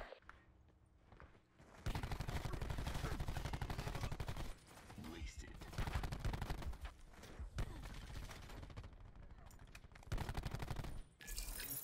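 Rapid gunfire in a shooting video game, loud bursts of automatic fire rattling in long stretches with short gaps, then cutting off near the end.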